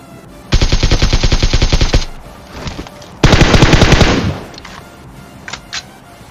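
Machine gun fire in a mobile shooter game rattles in two loud, rapid bursts, the first about one and a half seconds long and the second about one second, with a few faint shots after.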